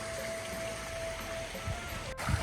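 Irrigation water flows beside a village garden property with a constant, close, hissing rush, a faint steady tone running through it and a couple of soft thumps near the end.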